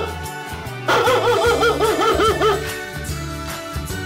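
A toy shepherd dog's electronic barking plays over a steady tinny music loop, several quick yaps in a row, close and clear.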